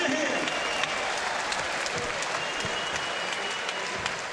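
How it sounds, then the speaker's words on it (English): Crowd applause after the Kevin Campion vs Paddy Tuimavave boxing bout at Fight for Life 2006. Loud, dense, continuous clapping from a large arena audience, with a commentator talking over it. "They'll get a big round of applause here tonight."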